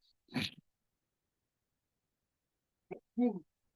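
A single short, sharp sneeze breaks the quiet, followed a few seconds later by a couple of brief soft vocal sounds.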